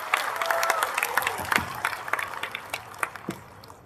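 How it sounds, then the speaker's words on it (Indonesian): An audience at an Indonesian political speaking event in Central Java claps for a few seconds, a dense and fairly loud patter of many hands with scattered sharper claps, with faint voices mixed in. "Berikan tepuk tangan paling meriah untuk Mas Kaisang Pangarep."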